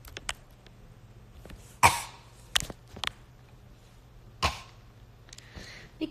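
Several sharp, separate coughs from a congested, sick woman, a loud one near the middle and softer ones around it, with quiet pauses between and a low steady hum underneath.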